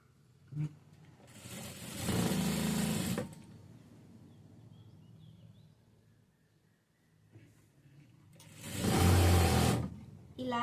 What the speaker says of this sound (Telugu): తిప్పేటప్పుడు సైడ్ క్లాత్ దాని కింద పడకుండా చూసుకుంటూ కుట్టు వేసుకోవాలి